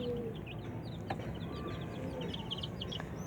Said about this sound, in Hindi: वो मुर्गी है जो अभी फेंकी थी। ये मुर्गा देखें आप